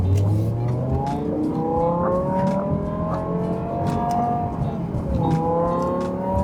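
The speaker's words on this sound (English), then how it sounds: "you can hear the beautiful sound of the V10 with that custom exhaust that Dinan put in" BMW E60 M5 V10 engine with a Dinan custom exhaust, revving in rising and falling sweeps with a loud, continuous close-up drone and no talk.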